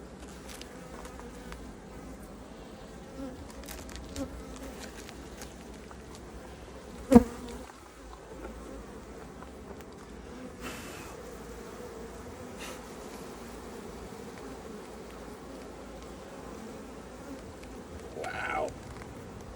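A dense, steady hum of many honeybees buzzing in an opened Langstroth hive fills the air, with occasional clicks and knocks and a louder thump partway through.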